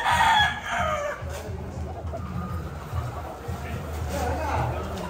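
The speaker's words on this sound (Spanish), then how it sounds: "Las gallinas y los gallos kikiriki" Roosters crow and hens cluck nearby amid a busy crowd at a cockfighting derby, with people talking over the poultry sounds.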